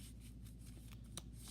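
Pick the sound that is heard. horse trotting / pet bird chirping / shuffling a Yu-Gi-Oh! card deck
shuffling a Yu-Gi-Oh! card deck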